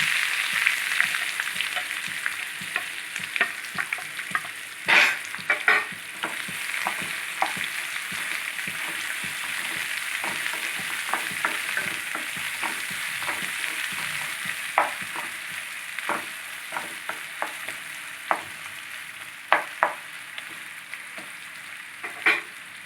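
Onions sizzle and fry in hot oil in a pan for a hotel-style phool makhana curry, a steady crackling hiss broken by scattered sharp pops and stirring clinks, close and continuous with no voices.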